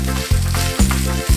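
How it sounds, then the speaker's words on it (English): Rösti hash browns fry in a pan with a loud, close, continuous sizzle. The sound dips briefly at regular intervals about every half second. "Fry for about 2 minutes."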